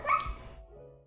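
Puppy in the video game Final Fantasy 16: a single short, close bark that trails off into a soft whimper.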